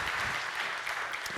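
A warm round of applause from a conference audience welcoming a speaker to the stage, a steady, dense wash of many hands clapping at once, fairly distant and even throughout.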